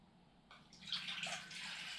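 Water poured into a metal pot being readied for baking bread over an alcohol burner, a soft splashing trickle that starts abruptly and continues steadily, fairly quiet and close.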